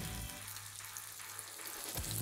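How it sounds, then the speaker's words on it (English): Chickpea tagine ingredients frying in a hot pan, with a soft, steady sizzle and hiss. A few faint utensil clatters come near the end, and no one speaks. "get that frying off and you can smell"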